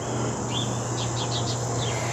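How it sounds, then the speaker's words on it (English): Birds singing outdoors in nature on an autumn day: a few short, faint chirps and tweets rise above a loud, steady hiss of background noise. "outside in nature with the songs of the birds right behind me"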